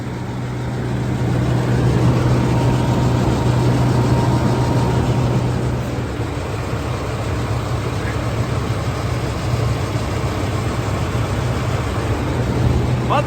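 2008 GMC C8500 dump truck's 7.8 liter turbo diesel running steadily, a continuous low hum and engine drone with a faint hiss on top, fairly close, lasting the whole span without obvious talk.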